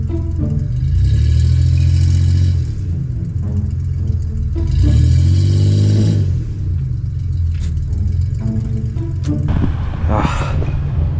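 A car engine revs hard while stuck reversing in thick snow, in two long loud surges with a steady rumbling idle between them, close up and with no talking.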